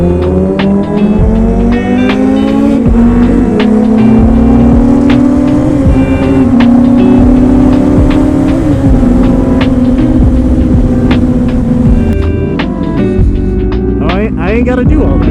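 A 2007 Yamaha R1 motorcycle engine running on failing ignition coils revs loudly and close, its tone rising and falling in long sweeps with rough, uneven firing throughout, while people talk over it.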